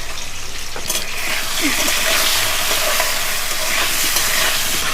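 Potatoes seasoned with salt and turmeric frying in hot oil, a loud continuous sizzle with the scrape of stirring, close up and without talk.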